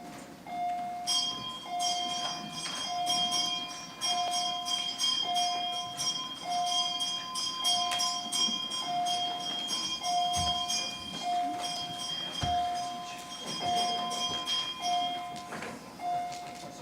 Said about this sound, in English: you may ring the bell